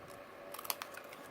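Scissors snip through cardstock while a handmade card is being made, a few faint, quick cuts close by in a quiet room.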